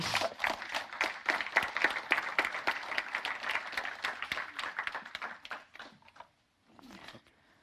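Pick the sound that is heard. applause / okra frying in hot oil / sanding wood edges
applause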